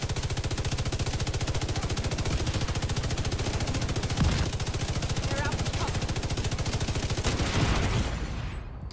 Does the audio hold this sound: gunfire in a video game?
yes